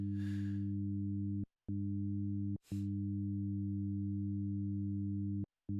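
Pure sine wave tones at 100, 200 and 300 hertz sounding together as a steady, smooth low hum, broken by three brief silent gaps, with faint soft noise at the start and once mid-way.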